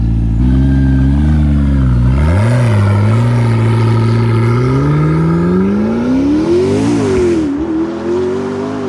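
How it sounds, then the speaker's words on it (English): A McLaren P1 supercar passes by, its engine note rising in pitch as it accelerates, loud and close, with a smooth sweeping roar that shifts as the car goes past. "You can enjoy all different kinds of sounds of nature, like this beautiful P1 that we just randomly came across here."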